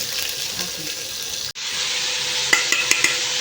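Spinach going into a hot frying pan with onions and green chillies, a steady broadband sizzle that briefly drops out, then resumes with a few sharp crackles and pops near the end; no talking.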